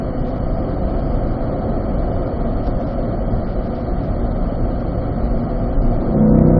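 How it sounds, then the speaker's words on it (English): Corvette engine pulling hard on a race track at the Ron Fellows Corvette Owners School, a steady loud drone that holds without a break and swells slightly near the end, with no talk. "Now commit to the throttle as soon as you're ready."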